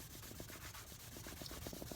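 An abrasive block rubs lacquer off a Suzuki GS750 motorcycle part in quick, rhythmic back-and-forth strokes, faint and close.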